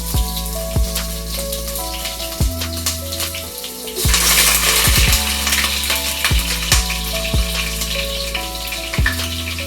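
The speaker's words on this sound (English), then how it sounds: "Now that the heat is hot, I'm gonna be adding some onions, garlic, some sweet peppers, green peppers." Onions, garlic, sweet peppers and green peppers frying in a hot pan for Trini-style curry chicken: a steady hiss of sizzling that swells loudly partway through, with occasional clinks from a utensil against the pan.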